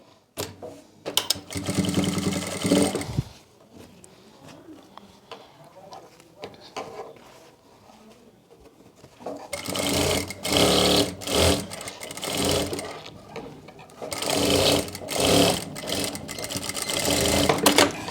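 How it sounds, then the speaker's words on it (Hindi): A sewing machine stitches the shoulder seam of an umbrella-sleeve kurti in loud, fast whirring bursts, running for several seconds, pausing, then running again twice more, with quieter handling sounds in between. "यहाँ से हम सिलाई को लगाना स्टार्ट करेंगे"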